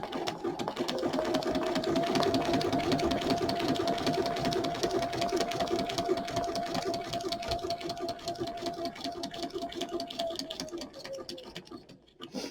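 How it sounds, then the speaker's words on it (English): A sewing machine stitching through paper runs in a steady, fast mechanical chatter for about ten seconds, then slows and stops, with a faint hum underneath. "I'm going to make 1, 2 stitches, and then I'm going to straighten it back out again."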